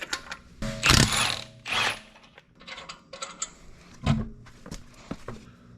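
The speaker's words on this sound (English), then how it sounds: "Just got to remove the last one with the special Mishimoto tool." A special Mishimoto tool works the last bolt free from a pulley wheel on a BMW N54 engine, giving a few loud metallic ratcheting bursts and clunks with quieter clicking and rattling between them, close up and with no talking.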